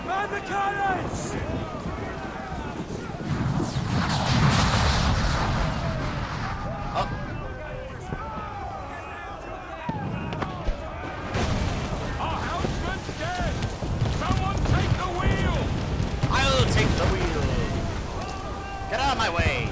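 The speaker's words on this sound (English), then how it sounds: "Firing the cannons." Naval cannons fire in a broadside during a sea battle aboard a sailing warship in the video game Assassin's Creed 4 Black Flag, with booming blasts and crashing debris under shouting crew voices and game music.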